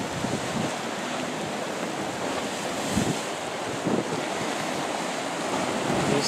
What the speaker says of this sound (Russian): Море бушует так посильнее, чем там.